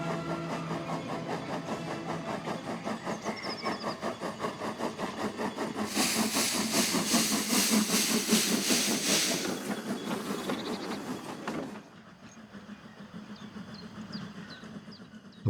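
A steam train on the line from Sibiu hisses and chuffs steadily, with a louder burst of hissing steam in the middle before it drops to a softer rhythmic beat, heard from the lineside.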